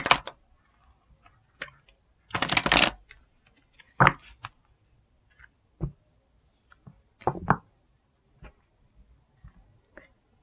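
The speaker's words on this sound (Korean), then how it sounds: "셔플 한 번만 하고요" Romance angel tarot cards being shuffled in scattered soft bursts of riffling and flicking, with quiet clicks and taps between them, close and gentle.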